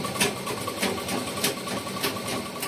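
A sewing machine stitches an engagement saree, its needle whirring in a fast, even rhythm of pulses close by and alone.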